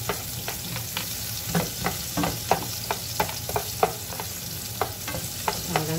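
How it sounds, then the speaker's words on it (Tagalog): Onions sautéing in the same pan used earlier for the vegetables, a steady close sizzle broken by repeated sharp scrapes and taps of a spatula stirring against the pan. "magigisa na natin yung mga gulay natin. At the same pan guys, ilalagay na natin yung sibuyas natin."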